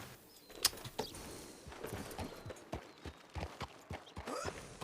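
Horse hooves clip-clopping in a video game, a steady series of fairly faint, irregular knocks over a soft background, with no clear voices.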